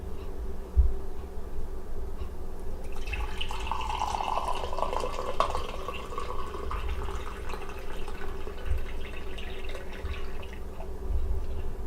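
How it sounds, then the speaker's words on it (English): Counter Strike Coffee Smooth Operator is poured into a cup in a steady, close trickle lasting about seven seconds over a low background hum. "I'm going to go ahead and start pouring this coffee"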